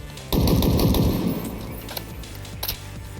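Rapid burst of automatic rifle fire from a BR75 or VK78 Commando in a video game, a dense loud volley lasting about a second that tapers off, followed by a few scattered quieter clicks and a sharp late hit.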